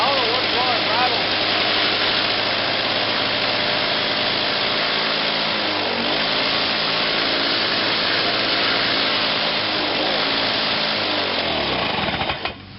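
A Lawn Boy 7260G lawn mower engine runs loud and steady at close range with a rough, rattling mechanical clatter, then cuts out abruptly at the very end.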